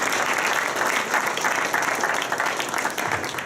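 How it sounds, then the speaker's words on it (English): Audience at a business case competition applauding the presenting teams, a loud, dense, continuous round of clapping from a large crowd, steady throughout with faint voices mixed in. "Once again, a round of applause for everybody up here"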